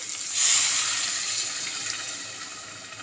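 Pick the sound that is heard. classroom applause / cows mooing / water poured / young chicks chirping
water poured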